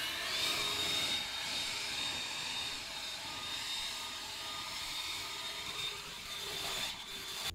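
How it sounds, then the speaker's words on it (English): A leaf blower scattering grass clippings across a ryegrass lawn, a steady airy roar held at moderate distance for the whole stretch with no break and no talking. "I'm gonna take my blower and just scatter them out"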